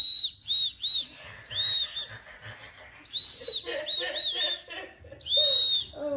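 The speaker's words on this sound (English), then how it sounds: "It's a whistle on your shoe." Small whistle built into a New Balance 527 YURT sneaker blown in repeated shrill, piercing toots of varying length, some short bursts and some longer warbling blasts, with faint voices in the background.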